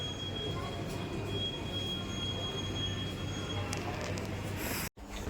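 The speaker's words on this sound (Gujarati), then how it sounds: "તો ઉપડી છે ટ્રેન" A train departs the nearly empty Bhavnagar station with a steady rolling rumble and a faint high wheel squeal, heard close and continuous until a brief cut near the end.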